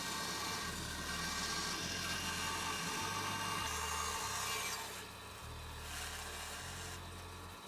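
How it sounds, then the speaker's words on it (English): Bandsaw cutting a triangle out of a wooden block for a push block, a steady low motor hum with a rasping cut through the wood that eases slightly partway through, heard alone without speech. "With the bandsaw I cut out the triangle."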